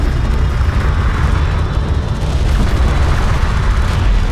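A hostile strike craft explodes after being shot down in Homeworld: Deserts of Kharak. The blast is a loud, continuous rumbling boom that fills the whole moment with a heavy, roaring texture.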